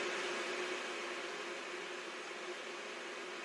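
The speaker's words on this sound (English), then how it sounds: "And you can hear my fan in the background." A 6-inch AC Infinity exhaust fan runs steadily in the background, a constant airy hiss with a faint hum, unchanging and moderately quiet throughout.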